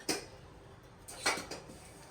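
Dishes, pots and pans being washed at home, two sharp metallic clinks of utensils knocking together with quiet handling noise between them, close and otherwise hushed.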